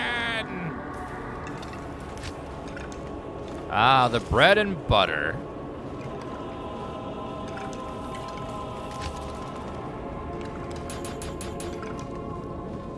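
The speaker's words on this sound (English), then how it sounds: "Corpse explosion!" A Necromancer's corpse explosion spell in Diablo II Resurrected goes off as a short, wet, squishy burst midway through, over steady game ambience, with someone talking before it.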